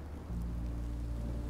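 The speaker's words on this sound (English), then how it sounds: "Rain is better than monsters." Rain falling in the video game Minecraft Story Mode, a steady low hiss that swells in abruptly and then holds as a constant wash, with no voices over it.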